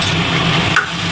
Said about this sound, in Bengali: তো মাংসটা এই মধ্যে ঢেলে দিব।